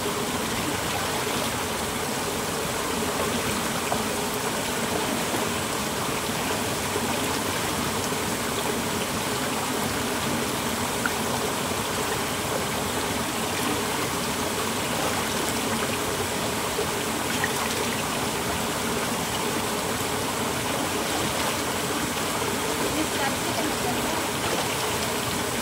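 A river runs over dark, moss-covered stones at a fruit farm, giving a steady, close rushing and trickling wash that holds unchanged throughout with no clear pauses.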